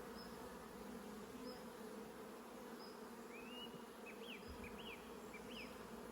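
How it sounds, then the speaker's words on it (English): Honey bees buzzing in a steady, dense drone while being moved from a nuc box into a hive, growing restless, with a few faint higher chirps over the constant hum. "Now I can hear those bees there, they're getting a little bit noisier"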